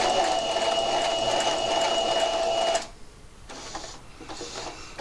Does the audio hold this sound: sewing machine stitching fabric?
yes